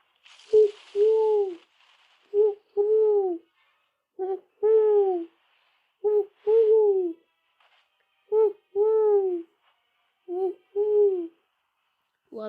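A voice imitates an owl, giving about eight paired hoots in a regular rhythm, each a short note followed by a longer falling one, loud and close with silence between.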